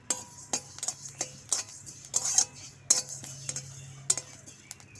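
A spoon scrapes and clicks against a dry pan as a spoonful each of panch phoron and cumin are roasted for shukto, giving irregular sharp taps over a low steady hum.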